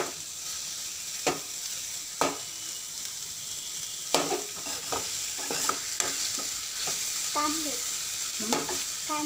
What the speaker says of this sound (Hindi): इधर मेरा पोहे बन रहे हैं